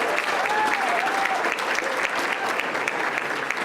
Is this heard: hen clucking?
no